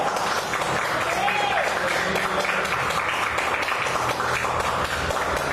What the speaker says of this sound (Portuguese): Dê uma forte salva de palmas para o Senhor.